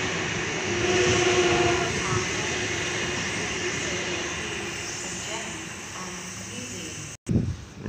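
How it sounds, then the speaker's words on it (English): A Sydney North Shore Line train passes along the third track at Newtown station, a broad, sustained rumble and rail roar that swells early and then slowly fades, ending in a brief cut with a voice. "North Shore Line service passing on the third track to the left."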